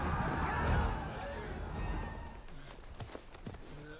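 Horses carrying mounted Dzungar troops gallop past in a dramatic film scene, heavy rumbling hoofbeats loud at first and then thinning into scattered clip-clops as they fade.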